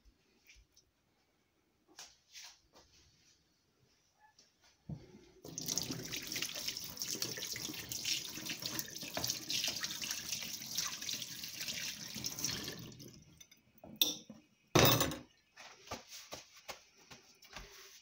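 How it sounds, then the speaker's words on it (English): Water runs from a tap for several seconds, poured over cut fruit to cover it for homemade juice, with a few clinks and drips before and after the steady flow. "I'm just gonna add enough water to cover my fruits"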